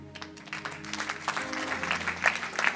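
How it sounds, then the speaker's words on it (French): Audience at a religious talk breaks into scattered applause, individual claps building in density over a few seconds at moderate volume, with a low hum of room noise underneath. "Pourquoi vous avez applaudi?"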